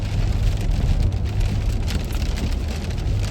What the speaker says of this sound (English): This storm is getting kind of bad.